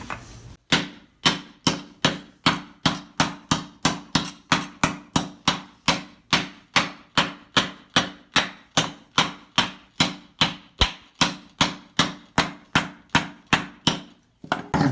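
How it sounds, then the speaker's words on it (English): A ball peen hammer strikes with its peen side on a metal armor elbow piece, ringing in a steady, fast rhythm of about forty loud, close blows over the whole stretch, with only brief pauses. "So we'll use the ball peen hammer here, peen side."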